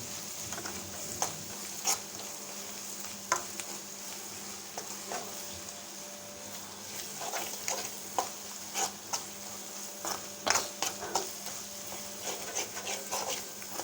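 A kilo of chicken with a handful of fresh coriander and mint is stirred in a pan, soft scraping strokes recurring at an uneven rhythm over a low, quiet sizzle.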